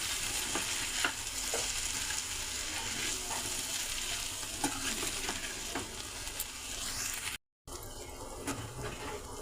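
Broad bean (chikkudukaya) fry with spice powder being stirred in a pan: a steady soft sizzle with repeated scraping clicks of the spoon, close and alone with no voices, and a brief dropout near the end.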